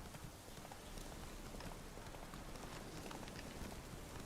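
Roach, a horse in the video game The Witcher 3, trots with a steady, continuous clip-clop of hooves over a dense, rain-like wash of ambient noise, with no pauses.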